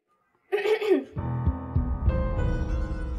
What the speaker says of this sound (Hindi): मैं खांस नहीं रही, खंखार रही हूँ